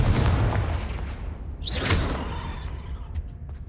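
The Confringo fire blast spell in Hogwarts Legacy goes off as a heavy booming blast with a rushing whoosh that swells in the middle and then fades, loud and without talk.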